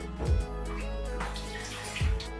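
Extra water is poured into a bread dough mix in a home kitchen, a steady splashing trickle heard close up with brief louder gurgles near the start and end.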